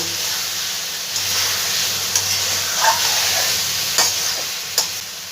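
Fried potatoes and drumsticks are stir-fried with spices in a pan, a steady hissing sizzle marked by a few sharp spatula scrapes and knocks, close and moderately loud, with no speech.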